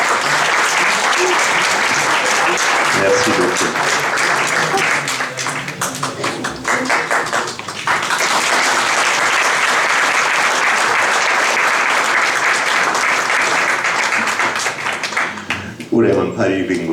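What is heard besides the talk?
audience applause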